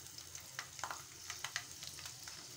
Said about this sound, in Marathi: लसणीच्या पाकळ्या छान खरपूस तळल्या गेलेल्या आहेत।